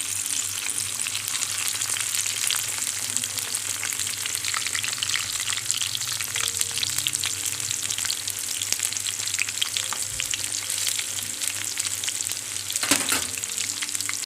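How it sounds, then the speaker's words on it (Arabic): Eggplant frying in oil for moussaka makes a continuous, loud, close sizzle with crackling spatters and a low hum underneath, one sharper clatter near the end, with no talking. "دلوقتي احنا طبعا بنحمر البتنجان"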